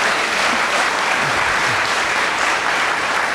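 An audience at a gallery conversation event applauds, a dense, steady clapping that holds at full strength throughout without letting up.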